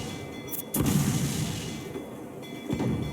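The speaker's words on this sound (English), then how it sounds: "Cannon ready!" Ship cannon fire in the pirate game Assassin's Creed IV: Black Flag, a sudden deep boom followed by a rumbling tail, then a second softer thump, over sea and ship ambience.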